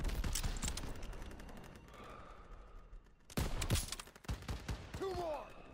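Bursts of WWII-era gunfire in Call of Duty WWII, dense volleys of close shots that thin out midway, then return loud and rapid, with shouted voices mixed in.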